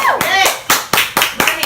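Several sharp claps ring out in a loose, uneven rhythm from a nearby group, with voices murmuring underneath.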